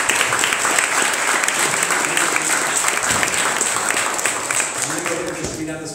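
A conference audience applauds its sponsors with sustained, loud clapping from a crowd throughout, thinning out toward the end.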